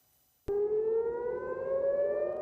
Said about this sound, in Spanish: La tranquilidad del amanecer fue interrumpida por las sirenas cuando las defensas aéreas israelíes interceptaron un misil de Hezbollah sobre Tel Aviv